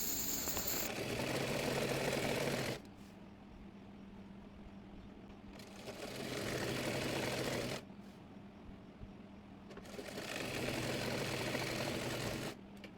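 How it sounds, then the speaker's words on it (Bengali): A sewing machine stitches waistband fabric onto a petticoat in three loud bursts of stitching, separated by short pauses with quiet background hum. "এরপর বেল্টের কাপড়টি এই পেটিকোটের সঙ্গে সেলাই করে নেব।"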